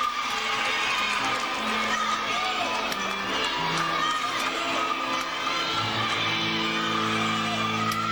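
A crowd cheers and shouts at a women's gymnastics meet in Rec Hall at Penn State, a continuous roar of voices and whoops in a large indoor arena.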